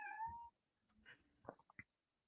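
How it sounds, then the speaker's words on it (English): A house cat gives a clear drawn-out meow, then a few softer, shorter chirping mews and small movement sounds, close by and fairly quiet in an otherwise still indoor room. "I heard a kitty cat."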